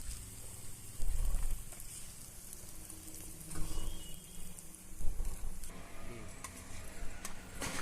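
Brinjal slices fry in hot oil in a pan, a steady close sizzle and crackle with a few louder bursts, no talking.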